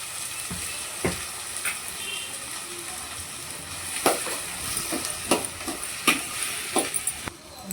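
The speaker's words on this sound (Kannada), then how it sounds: "ಇವಾಗ ನಾನು ಕಟ್ ಮಾಡ್ಕೊಳ್ಳಿರುವ ಬೀಟ್ರೂಟನ್ನು ಸೇರಿಸ್ಕೊಟ್ಟಿದ್ದೇನೆ" Cut beetroot fries in a pan, giving a steady soft sizzle broken by sharp clicks and scrapes of stirring, close and moderately quiet.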